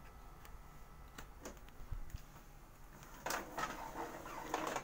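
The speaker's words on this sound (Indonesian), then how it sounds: "Tarikan kertas lancar. Proses print nozzle." Quiet mechanical ticking and clicks from an Epson L3150 inkjet printer feeding paper and printing a nozzle check, with a denser burst of whirring clicks near the end.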